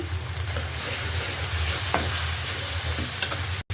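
Chicken fries in oil with coriander, cumin, turmeric and chili powder while being stirred, a loud, continuous close-up sizzle with faint spatula scrapes, cut off abruptly at the end.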